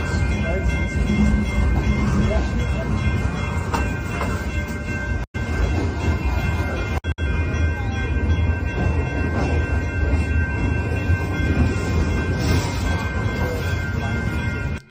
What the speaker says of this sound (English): a train going through San Diego, California with lots of military, of course, equipment on it